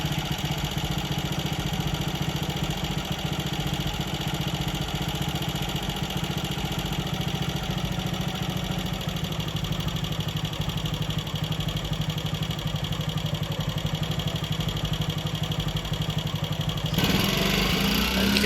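A Ducati single-cylinder motorcycle engine idles in a steady, loud, even thrum that runs throughout. The tone shifts slightly near the end.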